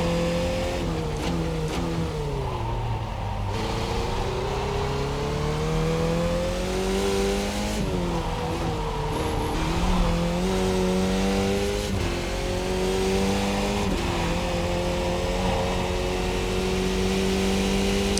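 F2000 open-wheel race car engine in the iRacing sim at Pocono South, droning loudly and continuously with pitch climbing and dropping through several gear changes and downshifts under braking, no talk.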